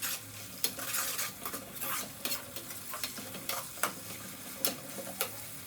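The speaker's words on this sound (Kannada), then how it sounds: "ರಪ ರಪ ಅಂತ ರೋಸ್ಟ್ ಮಾಡಿ" Tomato roasts in a pan for tomato gojju, a steady close sizzle broken by repeated scraping strokes of a spatula or spoon stirring against the metal.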